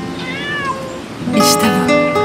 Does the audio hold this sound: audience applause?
no